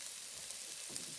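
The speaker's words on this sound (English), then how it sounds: "add your spring onions and garlic. Let them fry with your chorizo and bacon so they bring out the flavour" Spring onions and garlic fry with chorizo and bacon in a pan, a soft, steady sizzle that hisses evenly throughout with slight crackles and no voices.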